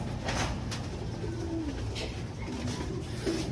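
Pet pigeons or doves cooing softly in a few short, low calls over a steady background hiss, with no talking.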